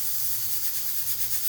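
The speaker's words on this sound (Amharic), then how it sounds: "ስጋውን የጣርኩበት ብረት ድስት ስለሚወጣ ትንሽ ድምፅ አለ።" Food sizzles in an iron pot with a constant, close, bright hiss that holds steady for a short stretch, and no voices are heard.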